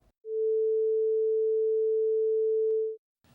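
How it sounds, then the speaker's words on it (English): A pure sine-wave tone at the note A above middle C holds steady and loud for nearly three seconds, starting and stopping cleanly with silence on either side. "This sound is called a tone, and the shape that represents it is called a sine wave."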